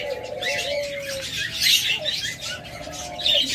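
Caged budgerigars at a breeder's, many nesting on eggs, chirp and chatter in a busy continuous twitter, with a soft lower cooing note beneath and faint wing flutters.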